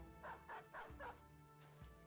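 Dog barking in the video game Battle Brothers, four evenly spaced barks in quick succession and then a couple of softer yelps, fairly faint over a quiet game background.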